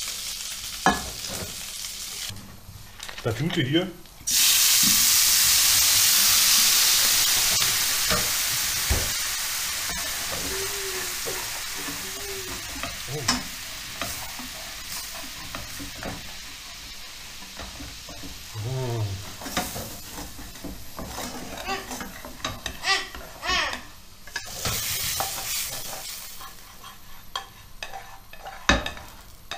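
Pan sauce for German meatballs (Buletten) is stirred as it sizzles and hisses in a frying pan, a loud burst of frying early on easing into steady bubbling with spoon scrapes and a few brief words.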